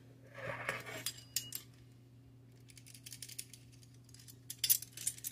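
Metal utensils clink and scrape against a bowl while sugar and cinnamon are mixed for a streusel topping, with soft irregular taps that cluster near the start and the end and quiet stretches between them.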